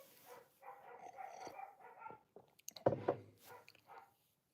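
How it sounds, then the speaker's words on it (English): Dog barking somewhere inside a house, a few short barks and yelps at a moderate distance, with one sharper, louder burst near the middle among quieter household sounds. "And there's always a dog barking somewhere in the house."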